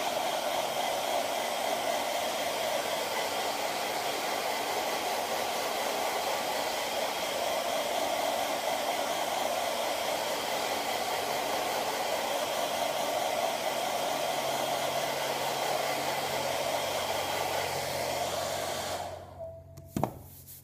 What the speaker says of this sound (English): I'm just going to give it a quick blast with the hairdryer.